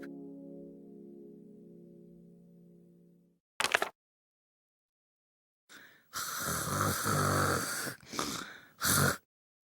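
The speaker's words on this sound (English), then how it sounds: "The giant was snoring in a loud voice." Loud, rasping snores from a giant in a storybook reading come in a few heavy bursts after a stretch of soft tonal music and quiet gaps.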